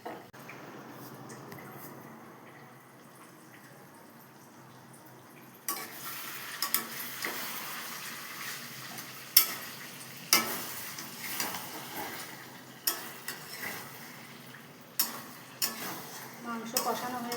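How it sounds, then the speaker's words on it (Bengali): Chicken masala curry sautéing in a pan, a soft sizzle that grows louder midway, broken by sharp clicks and scrapes of stirring. "এবার আমি ছেড়ে দিলাম কষা হোক"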